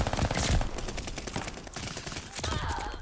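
Rapid light machine gun bursts crackle nearly nonstop in a Call of Duty Vanguard multiplayer match, dense overlapping rounds with a brief lull mid-clip before the fire resumes.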